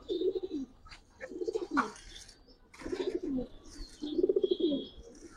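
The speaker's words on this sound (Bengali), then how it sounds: "প্রত্যেকটা কবুতর ফুল অ্যাক্টিভ কবুতর মাশাআল্লাহ" Pigeons coo nearby in repeated throaty, rolling phrases, several calls in a row with brief pauses between them.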